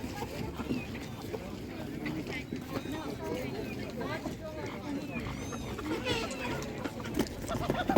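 Large roosters crowing and chickens clucking at a Ukrainian livestock market amid busy market chatter, with people talking nearby over a constant background bustle.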